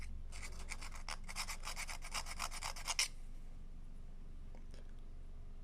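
Epoxy being scraped off a rectifier for a Mercury 70 hp outboard: about three seconds of rapid, rhythmic rasping strokes close by, then quiet with a couple of faint taps.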